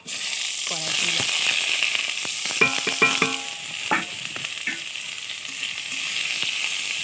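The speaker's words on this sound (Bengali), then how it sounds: "এবার দেবো পেঁয়াজ, পেঁয়াজ কুচি দেবো।" Chopped onion hits hot oil in a wok already tempered with dried red chilli, giving a steady, close sizzle with a few clinks and scrapes of stirring over the first seconds.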